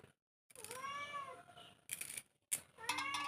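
A cat meows repeatedly nearby, drawn-out plaintive cries with short pauses between them, fairly quiet and with no talk over them.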